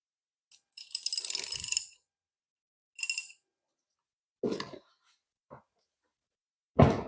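A wrench works stubborn head bolts loose on a Chrysler 331 Firepower engine, giving a rapid ratcheting burst followed by several short separate metallic clicks and knocks, close and fairly quiet, with no talking.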